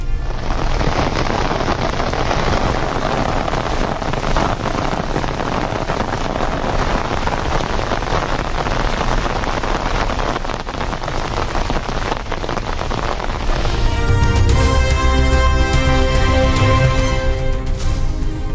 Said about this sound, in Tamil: நாகை மாவட்டத்தின் பல்வேறு பகுதிகளிலும் கனமழை.